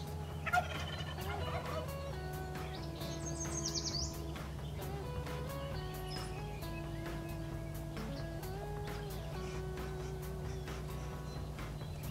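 Wild turkey toms gobble repeatedly at a moderate distance during a spring turkey hunt, their rattling calls rising over a quiet outdoor background with a few faint chirps from smaller birds.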